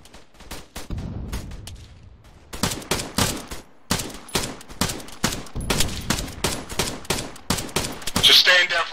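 Rapid bursts of machine gun fire in the military video game Arma 3, loud and close, repeating in quick rhythmic volleys across the clip with a brief pause in the middle.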